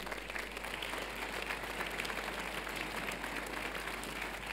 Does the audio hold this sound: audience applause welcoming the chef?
yes